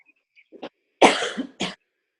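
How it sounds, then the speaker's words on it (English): A single close, harsh cough bursts out, preceded by a small throat sound and followed by a shorter second cough. "while I cough"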